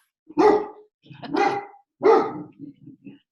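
A dog barks three times in loud, close bursts, followed by a few softer yips, with no talking over it.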